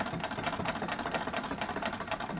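A sewing machine stitches down a heavy playing card page in a papercraft project, its needle running in a steady, fast, close mechanical chatter throughout.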